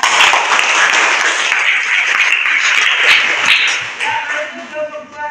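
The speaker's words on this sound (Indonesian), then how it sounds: "Silakan tepuk tangan." A class of students in an Indonesian school clapping together, dense loud applause that holds steady and then thins out toward the end, with a few voices mixed in.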